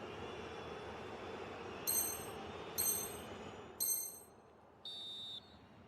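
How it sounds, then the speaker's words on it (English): In an eFootball video game match, a referee blows four shrill whistle blasts, three short and one longer, over a low, quiet crowd murmur. "The referee's whistle."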